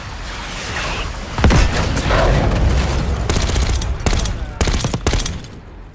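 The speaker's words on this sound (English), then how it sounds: "Mortar strike made short work of that situation." A Call of Duty Black Ops 6 mortar strike lands as a run of sharp, close explosive blasts, an opening boom followed by several quick cracking impacts over a rumbling battlefield bed.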